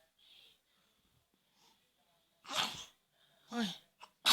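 A person sneezes twice in close succession, two sharp loud bursts near the mic, the second followed by a quick short gasp, with faint breathing and murmurs before them.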